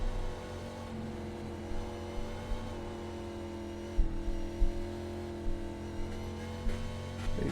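Race car engine in a sim racing video game at Road America, a steady, mid-pitched drone held at fairly low revs through a corner, with small bumps and blips in loudness and no talking.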